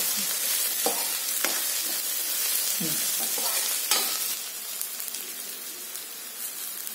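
Spring onions and egg sautéed in a pan for an egg burji, with a steady broadband sizzle and intermittent scraping stir strokes of a spatula against the pan, close and moderately loud, with no voices.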